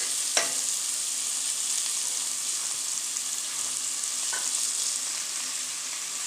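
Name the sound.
onion, garlic frying in melted butter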